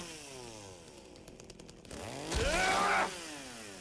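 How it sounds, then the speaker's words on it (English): A chainsaw revs in the Silent Hill 2 Remake video game, with a rough buzzing engine idling before surging into a louder high-pitched whine and then dropping off. "but the chainsaw's got to be making noise, right?"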